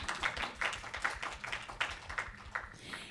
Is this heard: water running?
no